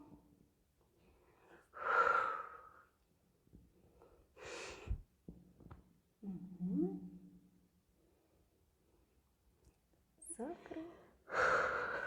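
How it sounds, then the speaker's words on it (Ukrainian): Calm, audible breaths during a lunchtime stretching workout, slow inhales and exhales spaced a few seconds apart, close and fairly quiet with a voice guiding between them. "Спокійно дихаємо."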